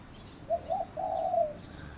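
A trained pet dove coos in a short phrase of soft, low, rounded notes, two brief coos followed by a longer rolling one, close by against a quiet background.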